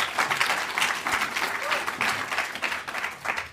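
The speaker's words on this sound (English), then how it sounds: "So big round of applause for Zolin" Audience applause at a London tech talk on APIs, a moderately loud round of clapping with a pulsing, uneven rhythm that carries on for a few seconds.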